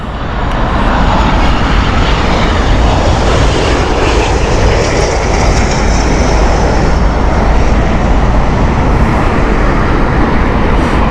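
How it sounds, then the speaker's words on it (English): Loganair Embraer jet, 23 years old, at Heathrow Airport in heavy winds, roaring loudly and close with a continuous broad engine rumble that holds steady throughout. "So this is a 23-year-old Embraer here."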